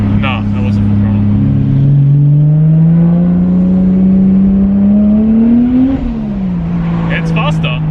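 Toyota Chaser with a turbocharged 1JZ-GTE inline-six, revving up as it accelerates under throttle, the engine note climbing then dropping back, loud from inside the car, with brief talk at the start and end.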